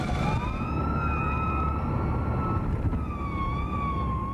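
Police sirens wail continuously at a funeral for a murdered Mexico City police officer, a steady rising and falling tone over a dense rumble of traffic and crowd noise.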